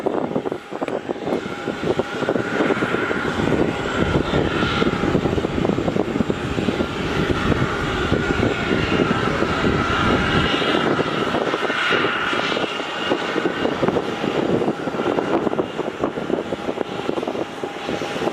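A Scoot airliner taxiing at Melbourne Airport, its jet engines giving a steady loud roar with a broad rushing hiss that holds constant throughout, heard from nearby with no talking.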